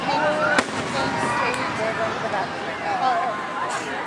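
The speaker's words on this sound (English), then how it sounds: "Then it was time for the fireworks." A fireworks display at Lake Geneva pops and crackles at a distance, with one sharp bang and scattered bursts over a steady outdoor rumble and faint crowd noise.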